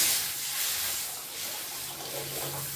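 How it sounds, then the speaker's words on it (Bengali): Water poured into a pan of spices cooked down with salt for a sour green-mango fish dish, a steady close hissing pour lasting the whole moment without talk. "হ্যাঁ, জল দিয়ে দিলাম"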